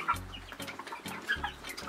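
Chickens cluck in a backyard chicken coop, making several short, uneven calls close by at a quiet level with low thumps between them and no talk.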